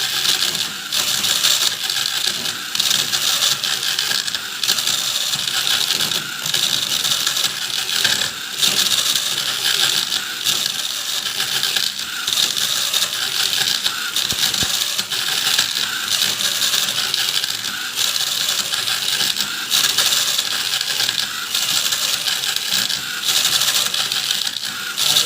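A manually operated prototype paper cutting machine, controlled by keyboard, cuts paper continuously with a dense, steady clattering and whirring of mechanism that runs unbroken for the whole stretch with no talk.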